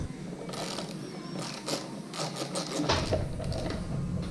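A ratchet clicking as bolts come out of the underside of a Vader 125 motorcycle, a Grom clone, in short bursts of close mechanical ratcheting with metallic rattles, no speech.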